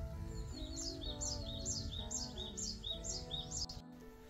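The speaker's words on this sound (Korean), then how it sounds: "산새들 노래소리 한번 들어볼게요." Mountain songbirds sing in a spring garden among tulips, repeated bright chirping phrases arriving in a steady rhythm over a soft background hum, moderately close and clear with no voices.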